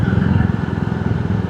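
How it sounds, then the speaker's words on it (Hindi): Honda Activa automatic scooter on a solo road ride, its engine droning steadily up close with a dense, low, pulsing thrum that holds constant throughout. "एक्टिवा बढ़िया चीज़ है यार, ना गियर चेंज करने की ज़रूरत"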